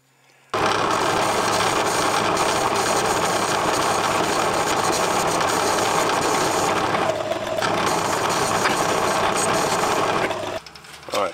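A machine tool cuts metal while machining the crankshaft of a Stuart 10V model steam engine, giving a loud, steady grinding drone that holds for about ten seconds before stopping abruptly, leaving quieter workshop sounds.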